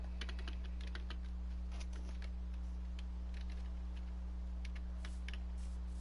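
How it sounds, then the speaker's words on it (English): Quick, irregular keystrokes tap on a computer keyboard in bursts over a constant low electrical hum, close and fairly quiet, with no one speaking. "I'm typing."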